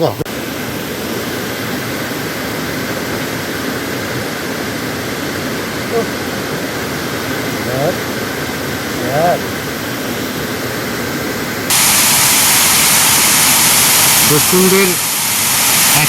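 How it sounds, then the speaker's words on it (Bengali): Water pours over Debkund waterfall in Mayurbhanj as a steady broadband rush heard from some distance. Scattered voices sound over it, and near the end the water noise grows louder and brighter. "সাইডে যে জলটা পড়ছে"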